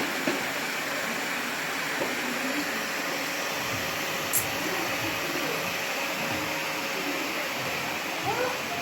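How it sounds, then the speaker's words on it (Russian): A household vacuum cleaner running steadily indoors, a continuous airy whine and hum held at an even level throughout with only faint small bumps. "Давай, давай, пылесось."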